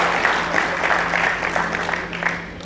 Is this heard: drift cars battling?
no